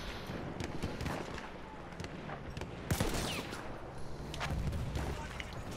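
A gun in the Battlefield 1 game fires in rapid bursts, with sharp, loud cracks and booming battlefield echoes running throughout.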